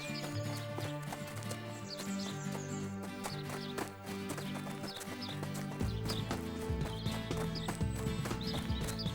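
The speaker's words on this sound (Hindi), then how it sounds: "ये सुनकर घोड़ा भी उसके पीछे भागने लगता है।" Clip-clop of a running horse in an animated Hindi children's story, steady rhythmic hoofbeats mixed under continuous background music with no speech.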